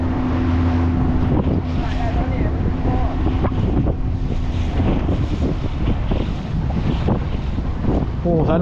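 Strong wind buffets the microphone steadily while fishing for sea bass from a boat at Ban Putus, with low boat rumble beneath and faint voices in the background.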